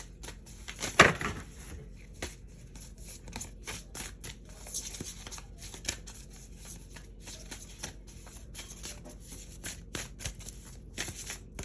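Tarot cards shuffled and drawn by hand at close range, a quick burst of riffling followed by a steady run of soft, rapid card flicks and slides, with no voices.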